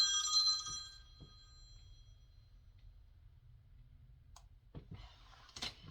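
A mobile phone rings briefly at a crafting table, its bright electronic tone fading in under a second, followed by a few soft clicks and handling taps as the phone is picked up.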